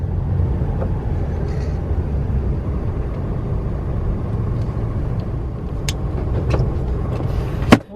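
Continuous road traffic rumble with passing vehicles, a low steady drone and a sharp hiss near the end.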